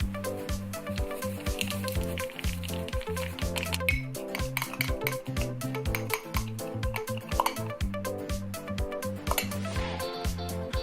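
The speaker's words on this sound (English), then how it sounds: "and then you just mix it up" A spoon clinks and scrapes around a small bowl while milk is stirred into Shin-chan pudding mix, a steady close rhythm of rapid knocks and scraping with no voices.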